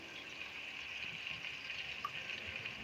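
Water poured from a container into a cooking pot of simmering egg kofta curry, a steady faint rush of liquid running continuously with no voices.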